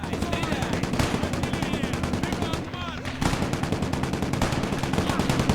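Rapid bursts from an MG42 machine gun rattle in the World War II shooter Gates of Hell: Ostfront, a dense stream of shots broken by one brief gap before the firing resumes.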